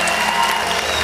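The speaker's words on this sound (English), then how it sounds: "Keep clapping. Y'all can clap." Steady audience clapping at a comedy and church event, a continuous dense patter of many hands with no distinct individual claps standing out.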